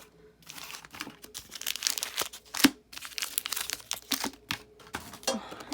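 Foil wrappers of Pokemon Shining Legends card packs crinkle and rustle as they are handled and pulled from a collector's chest tin, a close, continuous run of crisp crackling bursts with one sharper snap, no talking.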